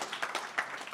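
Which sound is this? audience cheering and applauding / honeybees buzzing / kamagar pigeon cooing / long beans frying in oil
audience cheering and applauding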